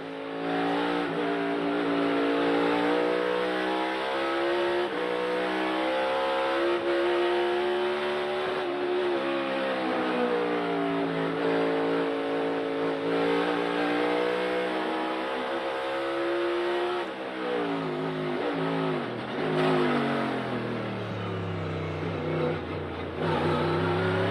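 A NASCAR Cup car at Sonoma's esses during Toyota/Save Mart 350 practice revs loudly and continuously, its engine pitch rising and falling as the throttle is worked through the turns, heard from trackside with no talking.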